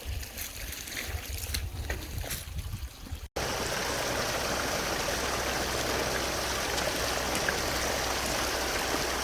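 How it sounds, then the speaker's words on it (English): Spring water gushing from a pipe in an Ozarks hillside at roughly six gallons per ten seconds, a steady broadband rushing that turns louder and fuller partway through and then holds. "probably 6 gallons in 10 seconds are coming out of the hillside there on the spring"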